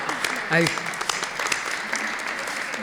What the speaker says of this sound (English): let's give another round of applause to Carol